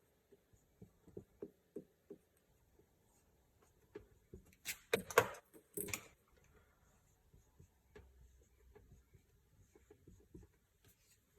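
Faint pen strokes writing math expressions on a surface, soft scratchy taps in short runs with a louder cluster in the middle, quiet and close with no talk.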